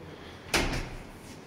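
A new armored apartment door swings open or shut with one sharp, fairly loud thump midway through, followed by a short rattle that fades into quiet room tone.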